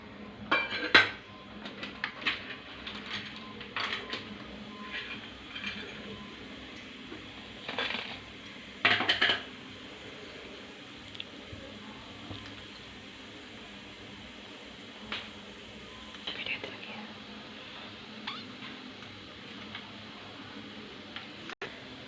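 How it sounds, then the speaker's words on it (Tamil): Mustard seeds, cumin and fenugreek splutter in hot oil for a bisi bele bath tempering, giving sharp scattered pops and clicks over a faint steady sizzle, with a few louder bursts of crackling, close and moderately quiet, with no talk. "கடுகு நல்லா பொரிஞ்சிடுச்சு. பொரியும் சவுண்டு உங்களுக்கே கேட்கும்."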